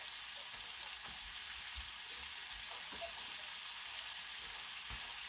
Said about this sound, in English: I'm just going to throw that in the middle of the pan and let that cook while the peaches cook down a little bit around the outside.